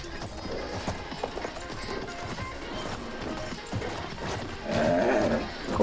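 Cavalry horse hooves clatter in the World War I shooter Battlefield 1, an uneven run of galloping thuds amid battlefield clutter, swelling louder near the end.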